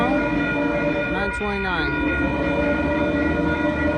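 A Metrolink train rumbles steadily past at San Clemente, loud and close, with a brief horn or whistle-like sweep rising over the continuous rail noise midway through.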